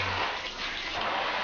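Water runs and splashes steadily at a bathroom basin as a mother washes her son's face and hands in the morning, a continuous close rush of liquid with no talking.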